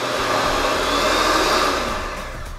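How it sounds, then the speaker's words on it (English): An electric hand mixer whirs steadily while mixing eclair ingredients in a kitchen, a loud continuous motor hum that eases slightly toward the end. "then I'm gonna use the mixer. And then I'm gonna mix these together."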